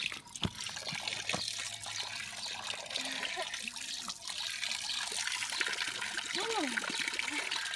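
Cold mountain water trickles and splashes steadily at a roadside spot in the Armenian mountains, close by, with faint bird calls and a few sharp knocks over the flow.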